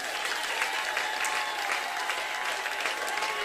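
A church congregation breaks into warm, continuous applause during worship, many hands clapping evenly with a faint sustained tone running underneath.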